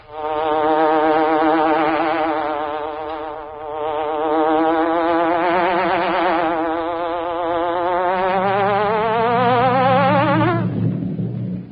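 Buzzing hornet sound effect from the 1945 radio show The Green Hornet, a loud wavering insect-like drone with a pulsing pitch that dips, rises steadily and then cuts off abruptly.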